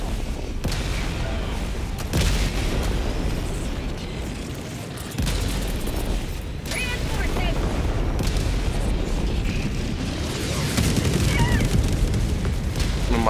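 Explosions in the shooter video game Helldivers 2, deep rumbling booms and blasts layered in dense, loud battle noise, with people talking over the chaos.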